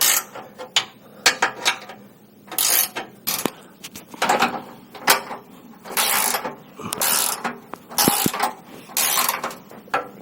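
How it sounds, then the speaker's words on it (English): Bursts of metallic ratcheting and clanks come up close as a wrench snugs nuts on a Dissent Off-road rear bumper for a Toyota Land Cruiser 100 Series, in irregular short strokes with clicks between them. "I'm just going to use my wrench here just to get them snugged up, but not super tight."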